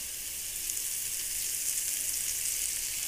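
Whole cloves, cardamom and peppercorns sizzle steadily in hot ghee, a continuous close hiss of frying spices with faint stirring, no voices over it.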